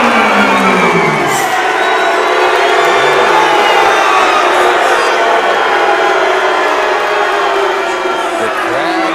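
A fight crowd at a PFC event reacts loudly to the judges' unanimous decision, with dense sustained shouting, cheers and whoops from a large audience filling the whole stretch.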